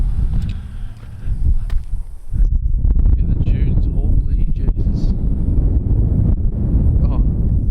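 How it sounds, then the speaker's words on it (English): Strong beach wind buffets a microphone in heavy low rumbling gusts, steady and loud, with a voice speaking faintly underneath. "You wouldn't believe it, it's windy."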